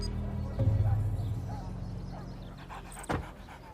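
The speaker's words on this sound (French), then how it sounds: "C'est un chien à poil court." A short-haired dog pants and huffs softly close by, with a brief sharp knock near the end and a low hum underneath.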